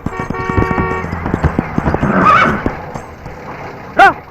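Horse hooves clopping along with cart rattle, then a loud, close horse whinny near the end, with a voice briefly audible.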